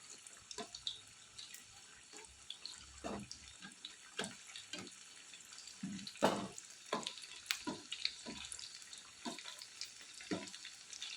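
Leftover rice vada frying in a pan over a low flame, with a soft steady sizzle and scattered light crackles and pops spread irregularly through it, fairly quiet and close.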